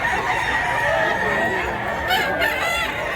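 Bullstag rooster crowing once, a loud close drawn-out call with a rising then falling tail, heard over outdoor farm background noise.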